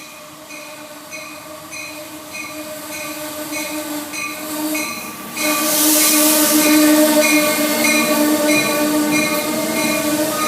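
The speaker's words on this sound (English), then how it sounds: "Here comes Amtrak 99 about to fly by Guilford." Amtrak 99 rushes past at Guilford, Connecticut, a loud close rumble of wheels and railcars swelling into a roaring, hissing peak as the train flies by, with no talk.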